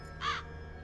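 A single short raven caw in the Black Mirror 2 game, heard alone over a quiet low background hum.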